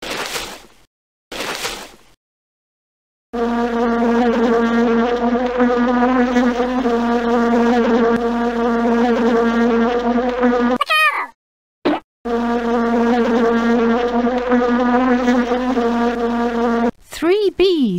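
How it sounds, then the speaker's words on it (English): Several bees buzz steadily in a tree, a sustained harmonic drone from a 1998 Sherston 123-CD children's counting program, broken by short gaps and brief spoken interjections near the start and end. "Three bees that buzz in a tree."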